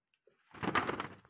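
A pair of pigeons, one of them green-eyed with a leg band, coos in a short burst of soft, throaty calls that swell and fade over about a second, heard close and alone.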